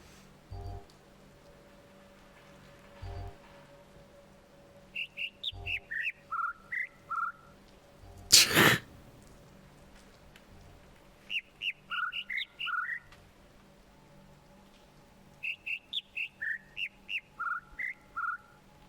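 Bird songs from the video game The Witness: three bursts of quick chirping notes, one bird giving short four-note phrases and another longer runs, clear and close over a quiet hum, with a few soft thumps and one loud sharp click midway.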